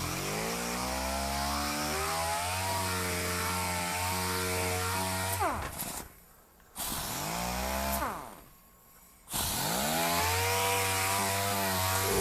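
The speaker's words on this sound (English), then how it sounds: "something like this sander" An air-powered sander driven by a Stealth 20-gallon quiet compressor runs with a loud, steady whine, cutting off twice for about a second each before starting up again, with no talking.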